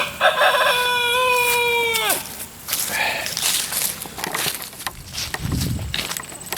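A rooster crows loudly and close by, one long rising-then-falling call, followed by clucking and shuffling sounds.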